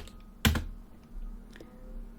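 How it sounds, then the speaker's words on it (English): A single sharp keypress, likely the Enter key on a computer keyboard, struck once near the start and fairly close, followed by faint quieter taps over a low steady hum. "run them by pressing the Enter key on your keyboard"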